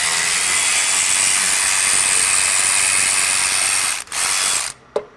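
Ratchet wrench pulling bolts from a Polaris intake manifold, giving a fast continuous clicking whir held close and loud for several seconds, then a brief pause, a short final burst and a single click.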